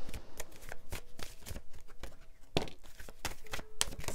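A deck of oracle cards is shuffled steadily and close up, with a continuous run of rapid riffling flicks and soft slaps and no talking.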